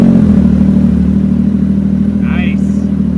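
Yamaha YXZ side-by-side with a big single turbo and 3-inch exhaust fires up and idles, a steady loud low engine drone, with brief voices and a short whistling flutter over it.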